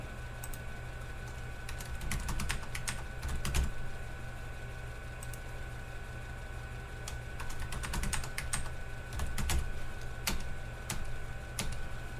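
Close, moderately quiet typing on a computer keyboard connected to an Altair 8800 computer, a run of irregular clicking keystrokes that comes in clusters with short pauses between them.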